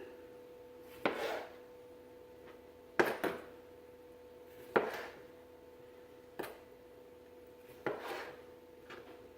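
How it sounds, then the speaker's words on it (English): A knife cuts tomatoes into quarters on a cutting board in a home kitchen, giving five sharp, separate chops spaced a couple of seconds apart over a faint steady hum. "We're going to cut our tomatoes into fourths, and then we're going to cut off just the stem portion."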